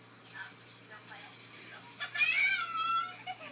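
A pet cat meows softly a few times indoors, short high cries close by, while people talk quietly over it.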